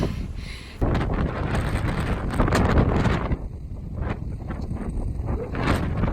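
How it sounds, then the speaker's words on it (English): Strong gusting wind on the Appalachian Trail near a shelter in the Smokies, a loud roaring rush that buffets the microphone, swelling and easing in waves. "Here the wind comes again. It's pretty intense."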